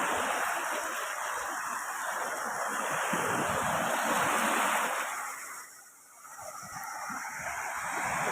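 Large sea waves roll onto a beach, a broad continuous roar of surf with wind, dipping briefly before building again, close and steady with no talk.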